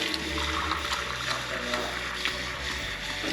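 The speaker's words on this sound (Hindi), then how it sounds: "ये जो पानी आएगा इसमें ग्लेशियर्स का ही पानी है।" A tap runs glacier water in a Himalayan valley, a steady loud rushing gush with a low hum underneath, continuous throughout.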